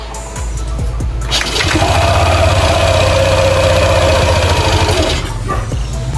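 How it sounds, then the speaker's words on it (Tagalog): A Yamaha Aerox V2 scooter engine kicks in after a short pause and runs at a loud, steady idle for several seconds, then cuts out. There is no talking. "paandarin muna natin yung ating Aerox"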